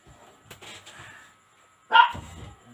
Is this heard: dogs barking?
yes